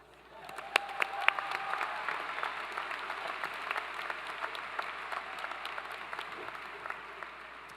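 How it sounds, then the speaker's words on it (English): Steady applause from a large audience at a high school graduation ceremony, with sharp individual claps and a few louder whoops on top of a sustained crowd wash. "So please give a huge round of applause to our very own small knight in shining armor"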